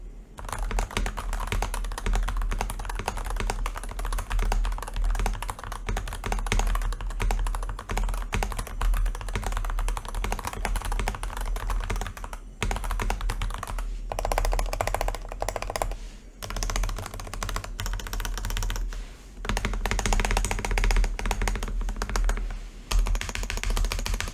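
Steady, fast typing on an Epomaker HE75 Mag keyboard with magnetic switches, a dense run of close, crisp keystrokes with only brief pauses.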